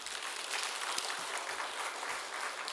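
A church congregation applauding a pastor, a steady, even wash of many hands clapping, fairly quiet and distant, with no voices over it.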